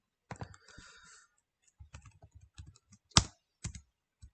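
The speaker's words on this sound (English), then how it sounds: "I want to type this again." Computer keyboard typing while working through an API automation test setup: bursts of clicky keystrokes, a quick run early on, then scattered taps and a few sharper louder strikes, close and clear with no talking.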